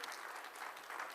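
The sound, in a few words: audience applause for bankers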